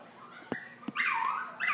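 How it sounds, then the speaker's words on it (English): Dogs indoors let out a few sharp yips followed by rising, whining cries, moderately loud and close, with no speech over them. "my dogs are barking because they know the next thing is about dogs"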